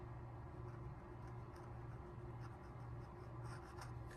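Fountain pen nib scratching across paper in quiet, continuous strokes, close and soft, with a steady low hum underneath.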